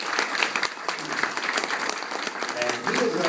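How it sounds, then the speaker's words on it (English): An audience at a museum family day performance of grass dancers claps steadily for about three seconds, a dense, even round of applause with a faint voice or two mixed in. "And let's give him a nice round of applause."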